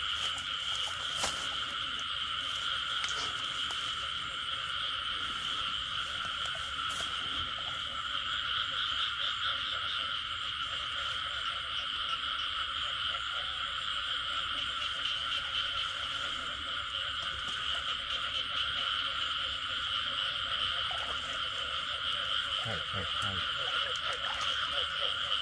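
A dense chorus of frogs croaks and trills continuously at night during frog hunting in Vietnam, a steady loud layer with no talk over it.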